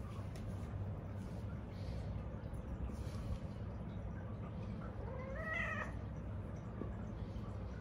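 One cat gives a single drawn-out meow late in the passage. It comes over a steady low street rumble at night in Hong Kong, with faint background noise throughout.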